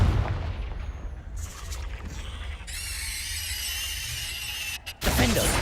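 Explosive Confringo spell cast in a video game, a burst of blast and crackling effects with shrill high-pitched ringing, ending in a sudden loud impact.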